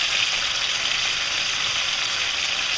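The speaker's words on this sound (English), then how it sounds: "As soon as they're hitting the pan, they're gonna be browning really nice." Pieces of meat browning in a hot pan for a sauce piquant, a steady close hiss of sizzling fat that holds evenly throughout with no talking.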